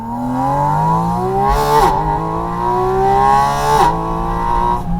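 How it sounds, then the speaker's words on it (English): Porsche 718 Spyder RS flat-six revving hard, loud and close, its intake howl climbing steadily in pitch through two long pulls with quick shift dips between them; no talking. "and this incredible intake sound, but you don't get the boomy resonance that you got with the GT4 RS before"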